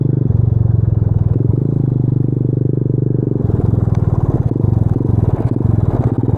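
A Boom Vader Grom clone motorcycle's small engine runs steadily and loudly, close by, with a rough, buzzing idle-like drone that never climbs much in pitch, plus some clattering over it.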